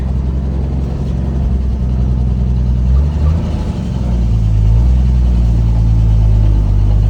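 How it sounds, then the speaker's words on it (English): A 1955 Chevy 3100 pickup truck on its first drive in decades, the engine rumbling loudly and steadily from inside the cab, with a brief shift in pitch midway as the throttle changes. "We're in the 55 3100, first drive since probably 1993."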